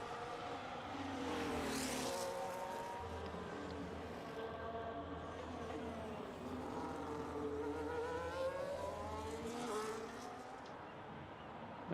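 Formula 1 Ferrari from a racing video game screams through the streets of Monaco, a steady high engine whine rising and falling through gear changes for the whole stretch, a faint voice now and then beneath it.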